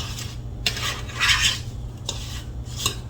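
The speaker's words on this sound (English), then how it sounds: "So I'm just going to give that a little stir" A utensil stirs sugar into strawberry lemonade pie filling in a bowl, giving a few close scraping, clinking strokes in short bursts with quiet pauses between them.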